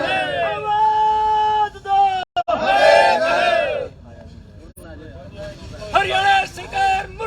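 A large crowd of protesting farmers gathered outside a district secretariat in Haryana, loud massed voices shouting and chanting in surges, with a speaker talking over the dense crowd noise.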